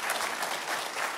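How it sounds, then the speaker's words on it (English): A church congregation breaks into a burst of applause, dense and steady clapping from many hands filling the room for about a second. "Why don't we give God a big round of applause?"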